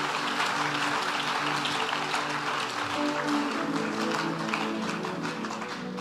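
A church congregation applauding during a French-language sermon: a dense, steady wash of many hands clapping for several seconds, a faint sustained tone running beneath, no speech over it.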